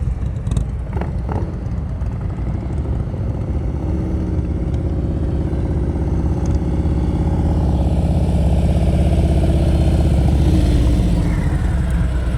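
A motorcycle engine runs steadily at low speed during slow-speed riding practice, a loud close idle-like rumble that rises slightly as the bike is throttled, continuous throughout.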